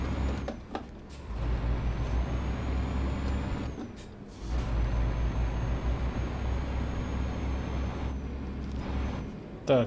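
A Scania R420 truck in Euro Truck Simulator 2 runs with a loud, steady engine drone and a thin, high turbo whistle held above it. The sound dips briefly twice and ends with a short burst of air.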